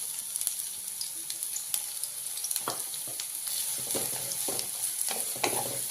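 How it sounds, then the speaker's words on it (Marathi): Chopped onion sizzles and fries in hot oil for the tempering of a dry soybean curry, a steady close hiss with occasional stirring scrapes and crackles. "कांदा चांगला भाजून घेऊया"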